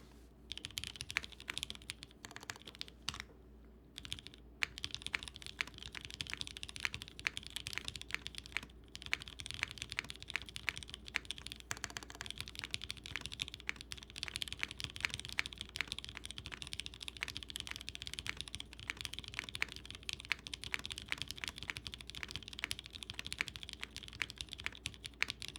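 Typing on a mechanical keyboard with Cherry switches, a long, continuous run of rapid key clicks and clacks with brief pauses, close and moderately quiet, no talking.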